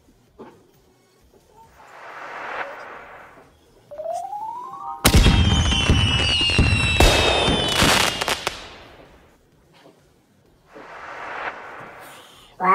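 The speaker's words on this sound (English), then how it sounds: "So we just put a fireworks." Fireworks from the Talking Tom house game burst in a loud, dense crackling volley midway, preceded by a rising whistle and flanked by short talk on either side.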